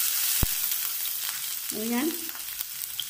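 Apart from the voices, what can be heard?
chopped ginger and garlic sizzling in oil with mustard seeds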